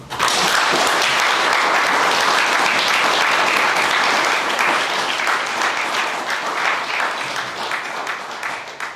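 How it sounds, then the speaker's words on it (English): A room of local residents at a community meeting about a proposed regional airport in Mahaska County breaks into loud, dense applause for family farmers, sustained for about nine seconds and easing slightly toward the end. "Please join me in thanking our family farmers with a warm round of applause."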